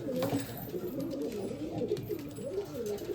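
Pigeons offered for sale coo softly and continuously at close range, a low burbling, rolling murmur from several birds with faint background noise and no talk.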